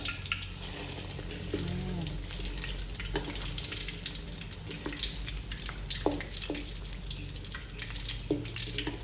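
A Thai omelette fries in hot oil, giving a steady, low crackling sizzle with scattered pops and spits throughout, fairly faint and continuous with no voices.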